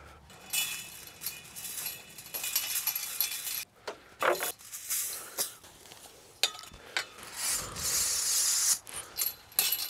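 Metal clinks and snips from tools cutting the wire of a chain link fence, irregular sharp jangling bursts separated by brief pauses, close and fairly quiet.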